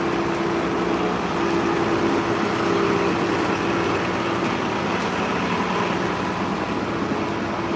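A loud bus engine idles or rumbles close by outdoors in the cold, a dense, constant low drone with steady broadband noise throughout and no voices over it.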